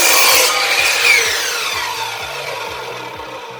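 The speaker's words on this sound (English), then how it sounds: "I can easily cut through this baseboard, which is almost 5 inches wide." A Chicago Electric 10-inch miter saw slices through wooden baseboard almost five inches wide, a close, loud burst of rasping cut that fades as the motor winds down.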